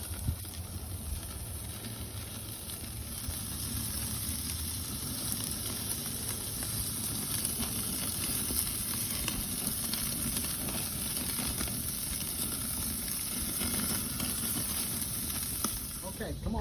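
A tomahawk steak, a big cut of meat, sizzles on the grill with a steady, continuous hiss and crackle. It holds an even level throughout, with no voices over it.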